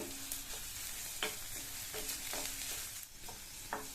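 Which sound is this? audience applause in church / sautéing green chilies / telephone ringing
sautéing green chilies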